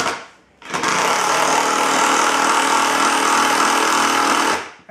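Makita 10.8V impact driver driving a screw into wood, a loud continuous rattling hammer burst lasting about four seconds, close up, starting abruptly and cutting off at the end.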